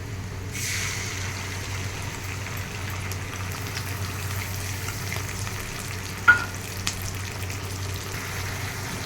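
Onion paste frying in hot oil for jackfruit biryani, a steady close sizzle throughout with a brief clatter of stirring near the end and no talking.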